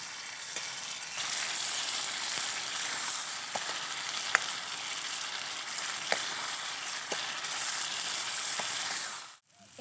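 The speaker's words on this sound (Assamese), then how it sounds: "এতিয়া মাংসখিনি ভাজি লওঁ।" Chicken pieces frying in a pan with ginger, garlic and spices, giving a steady close sizzle with a few sharp pops and light stirring scrapes, alone without speech, cutting out just before the end.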